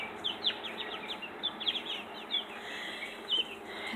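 Farm chickens clucking and chirping in short bursts, several close high calls scattered over a quiet outdoor background.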